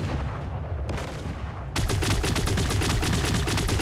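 Rapid automatic gunfire in the shooter Creative Destruction during an air strike, a dense run of close, loud shots that starts after a quieter lead-in and continues without pause.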